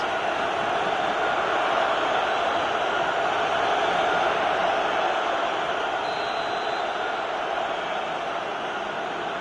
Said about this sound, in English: the crowd clearly like what they just saw